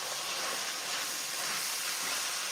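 Beef sizzles loudly in a hot pan while it is stirred, a dense, steady hiss filling the whole moment, close and with no voices.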